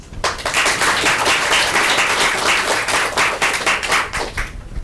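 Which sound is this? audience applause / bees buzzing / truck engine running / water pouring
audience applause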